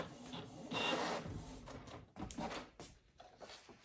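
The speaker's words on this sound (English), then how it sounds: "Let's send to printer" An inkjet printer prints onto transfer paper, with bursts of mechanical whirring, clicks and paper-feed rasps, fairly close and uneven in rhythm.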